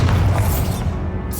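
A deep, booming blast from the Bombarda spell in Hogwarts Legacy fills the clip with a heavy low rumble that trails off, loud and close.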